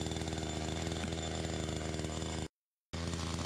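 A chainsaw cuts into a tree trunk holding a wild bee colony in Paraguay, a loud, steady, close engine buzz that breaks off abruptly for about half a second, then resumes.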